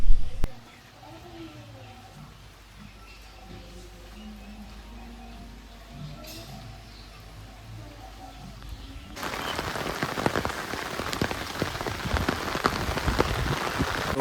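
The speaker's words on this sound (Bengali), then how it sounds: "এখন বৃষ্টি শুরু হয়ে গেল চর এলাকায় আর আমি এখন ছাতা মাথায় করে ভিডিও শ্যুট করছি" Rain falls on riverside char land by the India-Bangladesh border, first a soft patter under a low rumble, then a sudden loud, dense downpour drumming close by, as if on an umbrella overhead.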